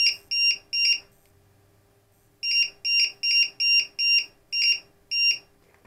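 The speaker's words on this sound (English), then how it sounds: "Tell you what, let me just turn off the beeper." A LiPo battery charger's beeper sounds while recovering an overdischarged LiPo: loud, shrill electronic beeps, three in a row, a pause, then a faster run of seven or so, close and with no talk.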